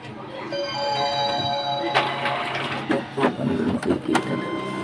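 An Epson L565 printer boots up, giving a steady mechanical hum and whine with tonal beeps, followed by clicks and clunks from the moving carriage. A voice talks faintly underneath.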